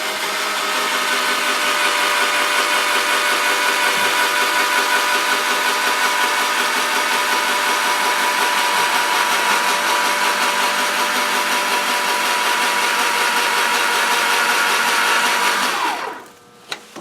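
A cordless power drill drives self-drilling, self-tapping screws into sheet metal for a battery box repair, a long, loud, steady high whine lasting about sixteen seconds before it winds down and stops, ending with a faint tap.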